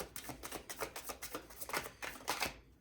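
Oracle cards are shuffled in quick, close, papery riffles, a rapid run of soft flicks lasting a few seconds.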